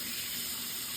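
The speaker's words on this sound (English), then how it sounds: "So all I'm going to do is turn on my warm water again." Warm water runs steadily from a household tap into a sink to rinse a Cricut cutting mat, a continuous close hiss and splash with no talking.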